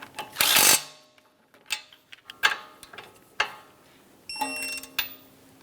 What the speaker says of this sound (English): snug the nut, and then torque it to 32 foot-pounds